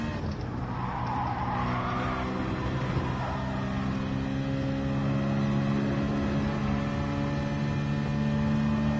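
A car engine revs in Gran Turismo Sport, a continuous loud, even drone with strong steady harmonics and only slight shifts in pitch, heard alone without talk.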